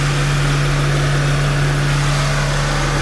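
A 2005 Honda Pilot with a faulty engine cooling fan idles close by, giving a steady, continuous hum with a constant low drone and no revving.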